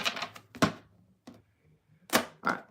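Cards are shuffled for a reading in several sharp riffling bursts with short quiet gaps between them, close and crisp, with no speech.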